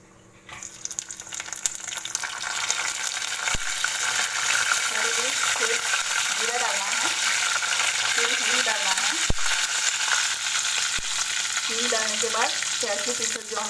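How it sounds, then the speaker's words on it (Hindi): Mustard seeds fry in hot oil in a pan, a steady close sizzle with scattered popping crackles and a few sharp knocks, while a person talks over it. "मस्टर्ड सीड्स थोड़ा सा पकते ही आवाज आते ही उसमें करी लीव्स डालना है आपको"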